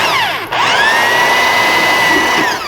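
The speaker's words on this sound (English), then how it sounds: "And drill a hole" A power drill bores a hole through a recycled tin can, metal on metal, sounding as a loud close whine that dips briefly, then holds a steady high pitch before tapering off.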